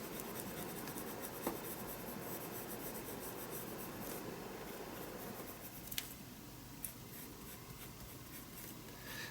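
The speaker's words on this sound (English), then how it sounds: "adding in some soft pencil colour" A soft coloured pencil colours on paper in an art journal. Close, continuous scratchy strokes rub back and forth for several seconds, with a couple of light taps and no voices.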